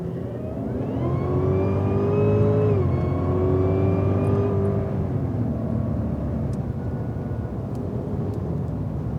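Cadillac CTS-V pulling hard on a race track, a loud sustained engine note climbing in pitch, dipping briefly at a shift, then droning steadily onward.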